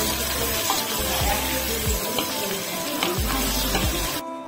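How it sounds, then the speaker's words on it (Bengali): Potato pieces fry in oil for a meat curry, a busy steady sizzle close by, with a few soft knocks from the utensil against the pan before it cuts off at the end. "এখন মাংসের আলুটাকে ভেজে নিচ্ছি।"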